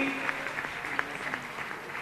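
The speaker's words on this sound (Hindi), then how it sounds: "जोरदार तालियां" Applause from an audience at a Jain religious discourse gathering honouring guests, a steady, fairly soft patter of many hands with a few sharper claps, heard without speech.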